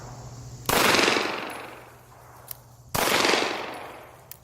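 Two loud pistol shots fired with a poor high grip, each a sharp crack followed by a long ringing decay outdoors, about two seconds apart.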